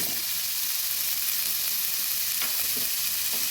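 Chopped beans go into a pan with carrots for an oats khichuri, and a soft, even frying sizzle hisses steadily with a few faint stirring clicks, no voices over it.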